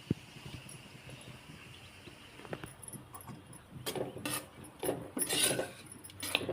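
A spoon scrapes and rasps against a pan while a crumbled roti mixture is slowly roasted and stirred on low heat, with soft scattered scratches growing into louder, quicker bursts of scraping toward the end.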